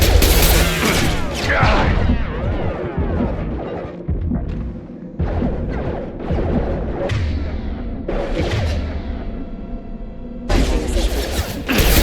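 Bursts of gunfire, whooshes and heavy thuds from Mass Effect 2 combat against hostile mechs, loud and chaotic with brief lulls and a renewed blast at the end.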